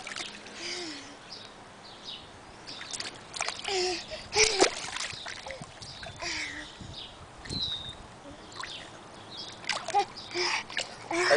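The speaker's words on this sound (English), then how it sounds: "He likes to splash his face." A child splashes water in a pool: irregular, bright splashes recur throughout, mixed with nearby voices talking and calling out.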